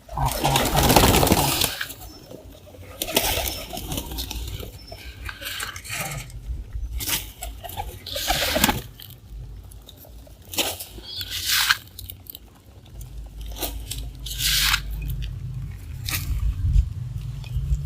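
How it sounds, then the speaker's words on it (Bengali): Pigeons peck and crunch grain steadily, many quick taps close by, with occasional soft cooing and fluttering mixed in. "কবুতরগুলো এখন দানা পানি করছে"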